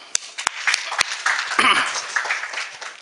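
A seminar audience claps, starting with a few sharp separate claps and swelling into fuller applause that carries on at moderate volume, with some voice in the mix.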